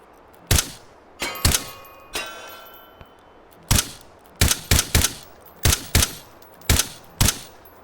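Metal gong in the VR shooting game H3VR rings again and again as it is shot, about a dozen sharp metallic clangs in irregular bursts, each with a short ringing tail.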